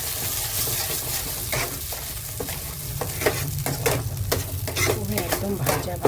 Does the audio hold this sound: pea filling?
yes